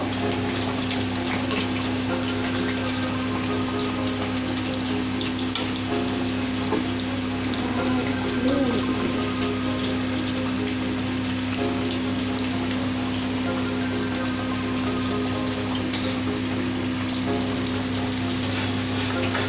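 Chicken pieces for a home-made Bengali chicken roast fry in a pan with a steady, even sizzling hiss over a low constant hum; no distinct flipping sound stands out.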